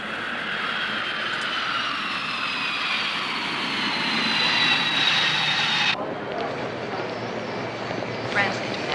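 A jet airliner arriving at an airport, its engine roar broad, steady and loud before dropping off abruptly partway through, as a public-address announcement plays over it.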